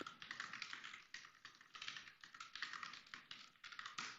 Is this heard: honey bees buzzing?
no